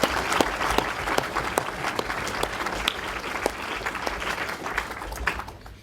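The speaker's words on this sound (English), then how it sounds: "I think we should give them a round of applause for this" A conference audience applauds the organisers with sustained, dense clapping, individual sharp claps standing out in the crowd sound, fading slightly at the end.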